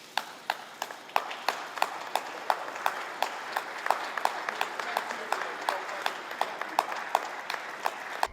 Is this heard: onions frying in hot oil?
no